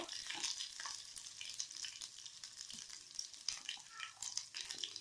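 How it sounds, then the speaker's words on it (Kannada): Mustard seeds, then cumin, spluttering in hot oil for girmit, a faint continuous crackle with rapid tiny pops, close and without talk. "ಈಗ ಎಣ್ಣೆ ಕಾದ ನಂತರ ಸಾಸಿವೆ ಹಾಕ್ತಾ ಇದ್ದೀನಿ. ಸಾಸಿವೆ ಚಿಟಪಟ ಅಂತ ಸಿಡಿಲಿ."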